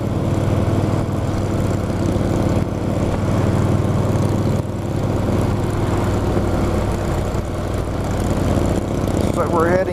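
Motorcycles cruising out on an open road on a long group ride, a steady loud engine drone with wind rush continuing throughout.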